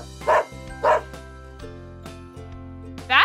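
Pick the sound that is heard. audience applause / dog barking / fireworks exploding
dog barking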